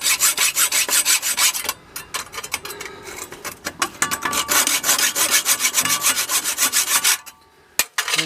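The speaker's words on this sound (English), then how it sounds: "You want to put it on a bit of an angle first, so you're in the thread, and then we want to cut the nut" A hacksaw blade cuts through a nut on the propshaft of a Mercedes 410D, sounding as rhythmic, close back-and-forth rasping strokes with a brief pause near the end, no talking.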